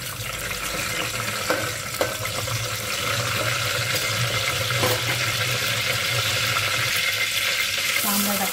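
Curry leaves hit hot oil in a pan while a spicy crab curry gravy is started, giving a loud continuous close sizzle with a few sharp crackles and stirring clatter, swelling slightly midway.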